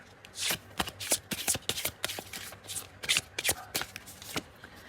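Tarot cards shuffled by hand, close and crisp, a quick irregular series of riffling slaps and flutters with brief pauses between them.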